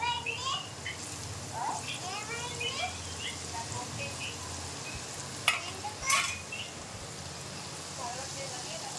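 Garelu (vada) batter frying in hot oil, a steady broadband sizzle running throughout with a couple of sharper spatters midway; children's voices and chatter drift in the background.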